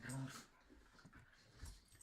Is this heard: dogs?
yes